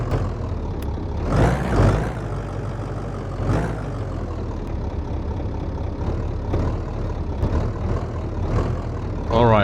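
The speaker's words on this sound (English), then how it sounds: "this is a diesel. And I'm just gonna warn you guys, it doesn't have an exhaust. So it's quite loud" A loud, rough diesel engine with no exhaust fitted rumbles steadily nearby, with a few revving surges and bursts of clatter over the constant low drone.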